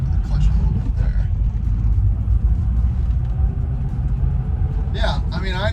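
A Land Rover Discovery 1 drives with a low, steady engine rumble as the clutch is slipped slightly, heard from inside the cabin with brief squeaks near the end.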